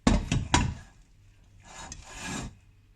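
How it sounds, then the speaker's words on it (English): A spatula stirs thick cocoa butter cream, giving a few close, soft scraping and squelching strokes: three quick ones at first, then a longer smeared stir, with no one speaking. "then take a spatula, give it a good stir"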